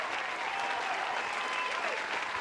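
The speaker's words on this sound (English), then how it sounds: "Where we get some applause for her." An audience breaks into steady applause for an actress, a dense, even wash of clapping that carries on for a couple of seconds with no voices over it.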